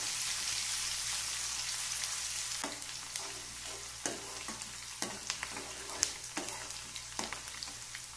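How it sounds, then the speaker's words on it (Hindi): One large, finely chopped onion fries in a pan for Maharashtrian street-style ragda patties, a steady bright sizzle with scattered sharp clicks and scrapes from stirring, close and continuous without any voice. "आप देख सकते हैं ये प्याज अब अच्छी तरह से फ्राई हो चुका"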